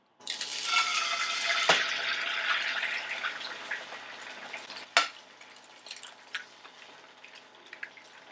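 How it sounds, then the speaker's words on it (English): Loud frying sizzle of eggs cracked into a pan crackles for a few seconds with sharp clicks and knocks of a utensil against the pan, then the sizzle fades to a quieter hiss. "you want to see the eggs sizzling like this"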